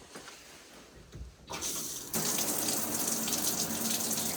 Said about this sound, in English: We have a shower stall with a very good looking shower head in it.